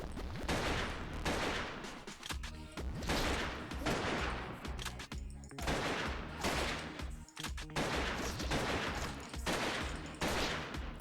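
Bombs fall and blast in the Artificial Defense PC game, a loud, dense roar of repeated explosions and gunfire-like bursts running nearly continuously with brief pauses between waves.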